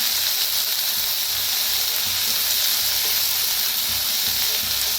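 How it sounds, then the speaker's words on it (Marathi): Onion and tomato frying in a pan, a loud, constant hissing sizzle up close with low, soft stirring bumps underneath. "त्यातच टाकूया टमाटर बी, छान भाजून घ्यायचं कांद्याला"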